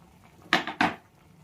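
Washed moringa leaves dropped into a pot of boiling curry, two short clattering knocks of a utensil against the pot, close and otherwise quiet.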